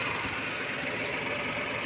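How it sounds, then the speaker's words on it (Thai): A Honda car engine idles roughly with one ignition coil pulled out, a steady uneven churning drone with a faint irregular knock running throughout. "ถอดออก เครื่องยนต์มีอาการ จะดับนะครับ"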